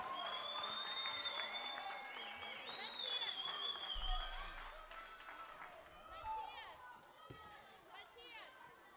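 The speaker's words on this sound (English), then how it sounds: "a big, big applause and good luck" An indoor crowd at an under-13 youth baseball tournament in Vienna applauds and cheers for the players, a sustained wash of clapping and chatter with whistles and shouts rising over it.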